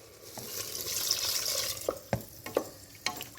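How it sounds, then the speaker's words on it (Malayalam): Water is poured into chili powder frying in oil, a soft hiss and bubbling that fades into a few sharp stirring scrapes and taps, fairly quiet and close. "പിന്നെ കുറച്ച് വെള്ളം ചേർത്ത് കൊടുക്കുക."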